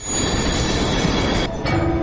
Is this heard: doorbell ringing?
no